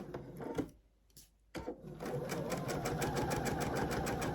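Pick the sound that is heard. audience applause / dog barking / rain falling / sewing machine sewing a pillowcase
sewing machine sewing a pillowcase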